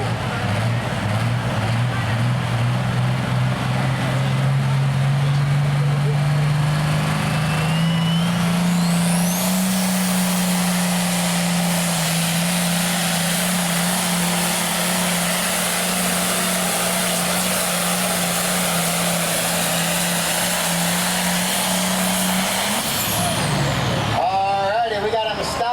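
A modified farm tractor at a Kempton tractor pull revs hard, its engine note climbing and holding a loud, roaring drone for about twenty seconds before cutting off, with an announcer talking over it.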